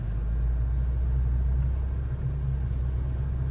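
A third-generation Toyota Tacoma 2WD pickup idling in first gear with the clutch released, a deep, steady engine rumble heard close and alone, without talk.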